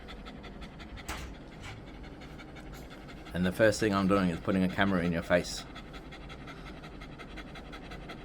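A dog pants with its tongue out, close to the microphone, in a steady breathy rhythm that runs through the clip while someone talks over it.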